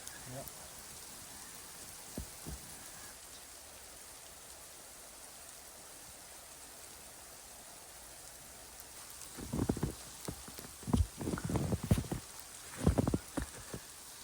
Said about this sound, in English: This is a little fine snow right now